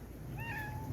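A cat in a garden lets out a single short, thin meow over steady low background noise, faint and somewhat distant, with no talking.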